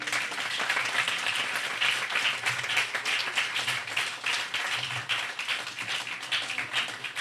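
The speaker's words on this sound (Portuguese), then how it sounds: "Pode aplaudir ao Senhor?" A church congregation claps together in a dense, steady patter of applause that carries on continuously at moderate loudness.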